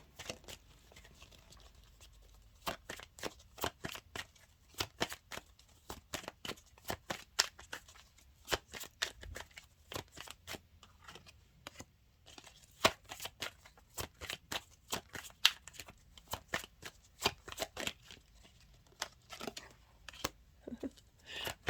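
Tarot cards are shuffled close up in crisp, irregular flurries of riffling and slapping with short pauses between bursts, with no voice over them.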